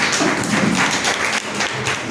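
Loud, dense applause from an audience at a Hindi discussion event, a steady wash of many hands clapping close by for the whole moment with no voices over it.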